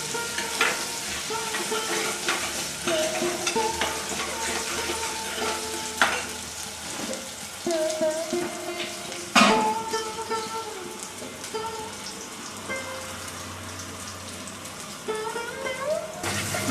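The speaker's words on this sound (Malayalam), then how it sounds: "അതുപോലെ വഴറ്റി കൊടുക്കുക." Ingredients for a coconut-milk mackerel curry sizzling and frying in a pan while being stirred, with continuous crackling and occasional scraping clinks of the spoon, close and fairly loud.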